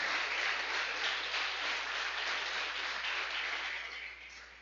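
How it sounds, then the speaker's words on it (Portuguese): Church congregation clapping during a Portuguese-language evening service, a dense steady wash of applause from a crowd that tapers slightly at the end, with no talking over it. "Palmas para Jesus."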